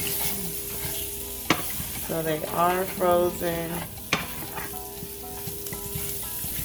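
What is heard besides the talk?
frozen meatballs being stirred and frying in a pan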